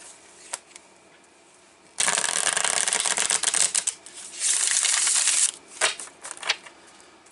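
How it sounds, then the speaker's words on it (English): Tarot cards are shuffled and riffled loudly up close in two bursts, followed by a few soft taps and flicks as a card is pulled, with no talking. "So I'm going to pull a card here."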